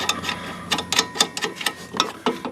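Ratchet wrench tightening a stabilizer end link nut on a 2004 Pontiac G6, a series of close, fairly loud clicking bursts in quick irregular strokes, heard alone.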